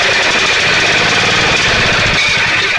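A Generac 7000 EXL generator engine fires and chugs while trying to start, a loud, close, rough knocking run of rapid irregular pulses with no speech.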